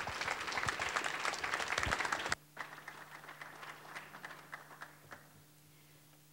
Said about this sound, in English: Please give a round of applause to our guest speaker.